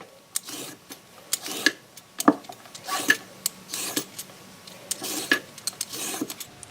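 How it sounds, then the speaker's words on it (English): A swivel-head vegetable peeler rasps down a carrot in quick, dry scraping strokes that repeat in short bursts with brief pauses between them, close up and with no voices. "Moving on to our swivel head. We can use this to peel carrots"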